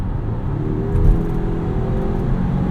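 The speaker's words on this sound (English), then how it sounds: "Let's show you guys a quick transition from electric to gasoline power here." Steady engine and road hum inside a 2022 Volvo XC60 T8 Polestar Extended Range plug-in hybrid as it shifts from electric to gasoline power while slowing to pass, with a slight swell near the one-second mark.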